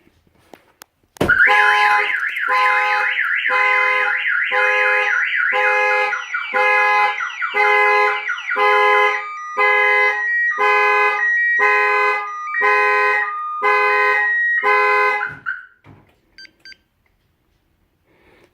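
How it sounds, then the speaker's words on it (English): A Ford F150 alarm blares in loud, close, rhythmic pulses of stacked beeping tones that cycle steadily for about fourteen seconds, then cut off abruptly into silence. "the alarm will go off all the way."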